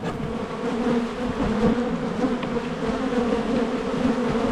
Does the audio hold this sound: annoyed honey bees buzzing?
yes